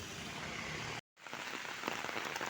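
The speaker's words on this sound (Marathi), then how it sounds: "मंडळी आपण पाहू शकताय असा मुसळधार पाऊस आत्ता भोरमध्ये चालू आहे" Heavy monsoon downpour at eight in the morning in rural Bhor, Pune district: a thick, constant roar of rain that drops out briefly, then returns with scattered nearer splashes.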